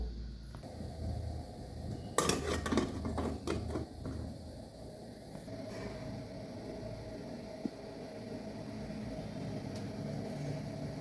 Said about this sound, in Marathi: आता आपण ही प्लेट ठेवून देऊया. अशा प्रकारे सर्व प्लेट लावून घेऊया